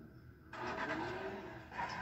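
A car engine in Fortnite kicks in abruptly and holds a steady, moderately loud drone for a couple of seconds, with a slight surge near the end.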